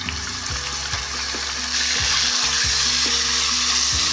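Ginger garlic paste fries in ghee with cumin and curry leaves for a chicken gravy, a steady close sizzle broken by repeated stirring scrapes, with no talk.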